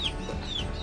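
A young chick kept indoors gives soft, close clucks and a couple of thin high peeps over a dense, steady background during a brief moment.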